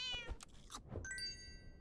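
Farmer Cat pet in the video game Super Auto Pets giving a few short, high, clear meows, then a bright burst of game sound effects at the end.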